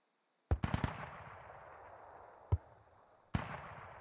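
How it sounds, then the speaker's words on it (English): Mortar rounds firing in the Squad video game: a quick cluster of sharp booms, then two more single blasts spaced apart, each with a long rumbling tail, heard from a distance in otherwise quiet surroundings. "Mortar fire outbound."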